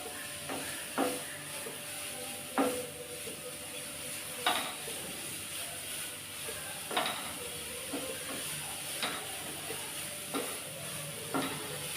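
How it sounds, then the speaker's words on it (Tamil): Grated carrot sizzles in ghee for carrot halwa, a steady hissing fry broken every second or two by a spoon scraping and knocking against the pan, close and fairly quiet. "இப்போ இந்த நெய்யிலையே நல்லா ஒரு ரெண்டு நிமிஷத்துக்கு நல்லா வதக்கி விடணும்"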